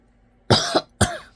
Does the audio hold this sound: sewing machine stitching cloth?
no